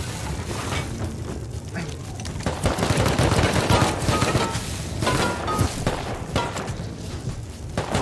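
Video game gunfire during a raid on a base near a quarry, with rapid bursts of shots and heavy booms crackling close and loud in uneven clusters across the whole stretch.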